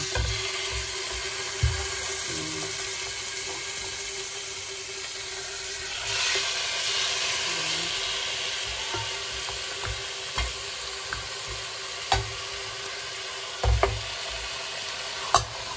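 Pieces of meat sizzle steadily in a hot frying pan, a continuous crackling fry with occasional utensil clicks and scrapes as they are turned, fairly close and without talk.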